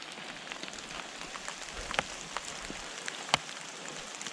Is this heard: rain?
yes